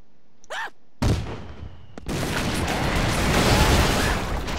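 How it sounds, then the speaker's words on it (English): Heavy explosive blasts from an airstrike in the video game Broforce, a sudden loud burst followed by sustained roaring, crackling destruction, with a few short mechanical clicks just before. "Oh, the airstrike."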